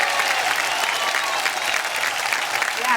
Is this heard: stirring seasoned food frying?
no